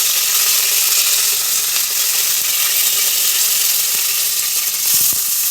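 Fennel seeds and curry leaves sizzling in hot oil for mutton kuzhambu; a loud, dense, continuous hiss of frying close up with faint crackles and occasional stirring clicks, no speech.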